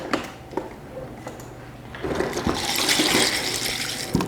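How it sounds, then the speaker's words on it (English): Ice clinks into a glass with a few sharp knocks, then water runs and pours in with a rising, rushing splash that fills the second half. "I'm going to get some ice and a little bit of water."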